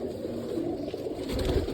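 Pigeons coo softly nearby in a pigeon keeper's loft, a low continuous murmuring that thickens slightly toward the end.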